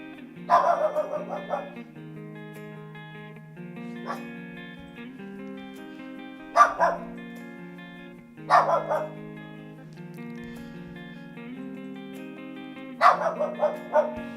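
A house dog barks in the background during a Pokémon card game session, giving a few sharp, spaced barks and yips over a steady low hum, fairly faint and somewhat distant.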